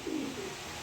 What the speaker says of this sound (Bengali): দেখার মতো এক পেয়ার কবুতর